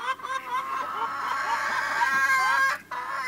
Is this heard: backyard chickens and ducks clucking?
yes